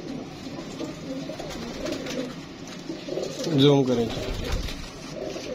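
Pigeons coo in low, rolling calls, a clear burst rising midway, while someone talks nearby over faint background noise.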